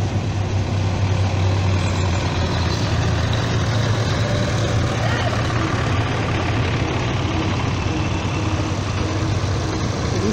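An old tractor engine runs steadily at a tractor run, with a loud, continuous low rumble and chug close by. No voices are heard.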